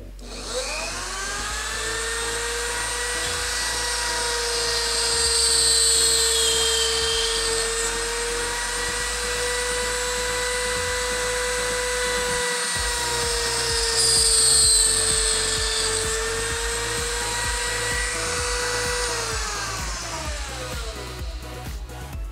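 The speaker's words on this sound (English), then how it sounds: "press down firmly on the hub and then gently but firmly rotate the blade into the bit" A high-pitched rotary tool with a helical cutter bit cuts a bullnose model propeller blade, a close, continuous whine whose pitch dips and the cutting noise swells twice as the blade is fed into the bit.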